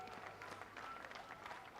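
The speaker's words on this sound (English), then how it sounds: "And the applause." Podium finishers at the Mugello Ferrari Challenge Coppa Shell AM race receive a round of faint, distant applause that is steady and crowd-like, with some background talk beneath it.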